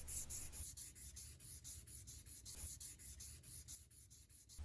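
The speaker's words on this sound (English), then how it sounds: "I now go over the entire handle with 400 grit sandpaper" Rhythmic back-and-forth strokes of 400 grit sandpaper over a wooden knife handle on a golf-club knife, steady, close and fairly quiet, with regular rubbing passes and no voices.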